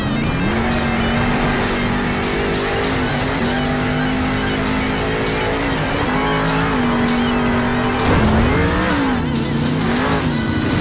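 Monster truck engines roar continuously in the Monster Jam Steel Titans video game during a backflip championship, loud and close, with the pitch rising and falling as the throttle changes.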